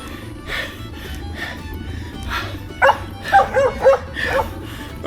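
Somewhere in rural Kentucky, a dog chases a touring cyclist and lets out a quick run of several sharp, fairly close barks and yips over steady road and wind noise.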